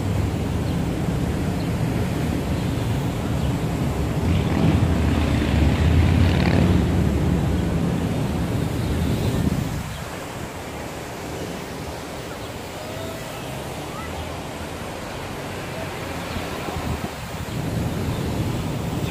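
Wind blows outdoors at a park, rumbling and buffeting the microphone in loud, steady gusts that ease partway through, then swell again.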